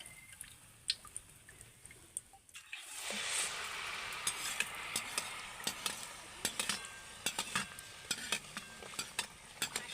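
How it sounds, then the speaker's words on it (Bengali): Ripe palm fruit pitha cakes frying in oil, with a quiet stretch before a close, loud sizzle swells and keeps going, broken by sharp pops and spatters. "দুটো পিঠই ভালোভাবে ভেজে নিতে হবে"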